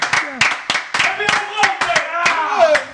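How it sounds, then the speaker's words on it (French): A small group claps for Jean-Marie in sharp, uneven bursts of several hand claps each, close and loud, mixed with voices talking and exclaiming throughout. "On peut l'applaudir, Zidé."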